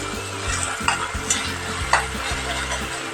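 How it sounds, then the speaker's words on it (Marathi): Tomatoes and finely chopped green chili sizzle with onions in a pan for dal palak, a steady frying hiss broken by a few scraping stirs of a spoon. "मिरची घालूया एक बारीक शिरलेली आणि नंतर टॉमॅटो घालूया टोमॅटो चांगले शिजून द्यायचे आपण कांद्यामध्ये"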